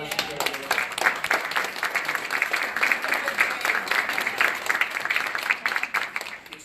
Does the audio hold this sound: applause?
yes